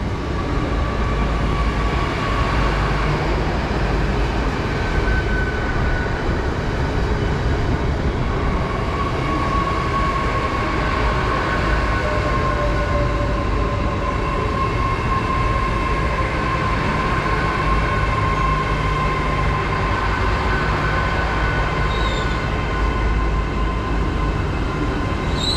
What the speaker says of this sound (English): And also arriving in is the 1516 Great Western Railway service to London Paddington from Penzance